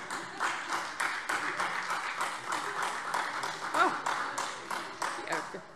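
Parliamentary applause, a dense patter of many hands clapping, rises and falls in short waves across the chamber, with a speaker's voice continuing over it.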